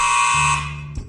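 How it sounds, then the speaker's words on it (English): A buzzer signalling dance time sounds as one steady, loud electronic tone that holds for about a second and then cuts off abruptly. "There goes the buzzer, which means it's dance time."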